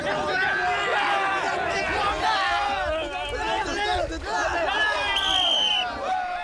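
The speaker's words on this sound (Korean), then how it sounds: "즐거운 함성이 가득한 이 순간에도 훈련은 이루어지고 있다." Joyful shouting from army commando soldiers during a three-man team water cavalry battle game in training, a dense crowd of overlapping cheers and yells sustained throughout, loud and close with splashing activity.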